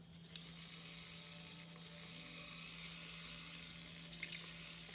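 A dental drill with an extension fitted whirs with a faint high-pitched whine and hiss during implant placement, a steady, quiet tone lasting throughout with a low hum beneath.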